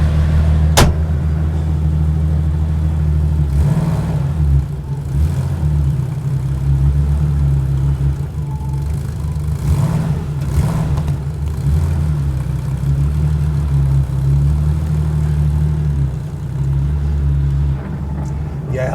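An air-cooled Porsche 993 Carrera RS Clubsport pulls away on the road, its flat-six droning loud and steady from inside, rising and easing with gear changes, a sharp click near the start and a few faint voices underneath.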